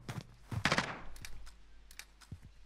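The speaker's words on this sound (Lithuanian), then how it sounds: "Machine guns." Machine gun fire in Call of Duty Warzone, a few quick bursts and scattered single shots, moderately loud and separated by short pauses.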